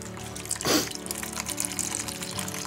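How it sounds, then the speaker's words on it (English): Corn microgreen seeds are swished with water inside a lidded container, giving a brief sloshing surge near the start and then gentle watery movement, nearby and moderately loud, without speech. "Trying to get a good swish."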